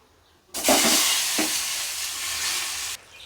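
Eggs dropped into hot oil with turmeric in a pan burst into a loud, close sizzle that starts abruptly, hisses steadily for a few seconds, then cuts off.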